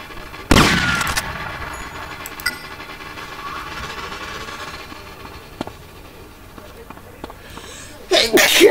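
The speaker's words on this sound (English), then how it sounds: "So I sneezed." One loud, sharp sneeze bursts out close at the start, followed by quiet low background sound and a brief noisy burst near the end.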